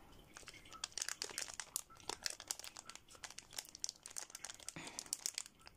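Plastic packets from a Wildberries order crinkle and rustle as they are handled up close, a continuous crackly crumpling with sharper crunches scattered throughout, no voices.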